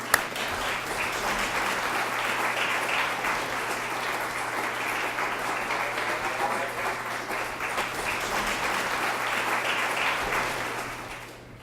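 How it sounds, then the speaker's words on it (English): A conference audience at an evening panel discussion on the global media revolution applauds the moderator. The clapping is loud and dense, with no break for about eleven seconds, then fades at the end. "can I ask you to give a big round of applause to John Kirby, our moderator."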